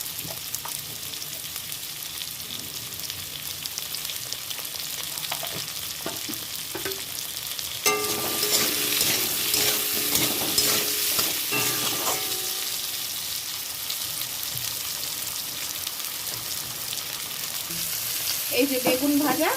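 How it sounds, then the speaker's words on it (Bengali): Potatoes frying in hot oil in a home kitchen pan, a continuous loud sizzle that swells sharply when stirred, with scraping and clinking from a utensil and the crackle settling back to a steady fry. "আলুগুলো দিয়ে দিলাম কথা বলতে বলতেই তেলের মধ্যে।"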